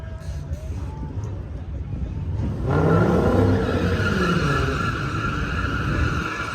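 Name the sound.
cars drag racing on quarter mile strip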